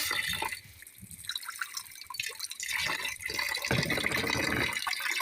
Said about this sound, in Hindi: अब इसको अच्छी तरह हम लोग वॉश कर लेंगे। 3 से 4 पानी में इसको धोएंगे।